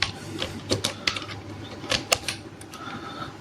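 Irregular bursts of clicky key taps on a computer keyboard, close and fairly quiet over a low steady hum, with short pauses between clusters.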